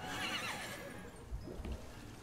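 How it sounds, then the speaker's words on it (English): A cloud horse creature in a monster-collecting video game gives a loud, wavering whinny, followed by a few soft hoof clops, with no talk over it. "A cloud horse."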